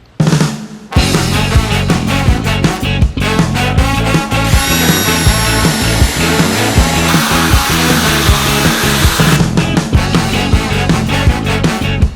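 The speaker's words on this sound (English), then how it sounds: "we're drilling through here, all the way through into this bat." A power drill whines steadily through wood into a baseball bat for several seconds, loud and continuous with slight pitch shifts as the bit bites.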